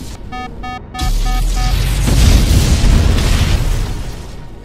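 Evil forces attack a flying machine with explosions, a deep booming blast that swells after a few electronic beeps and rolls on as a loud, rumbling roar before slowly fading.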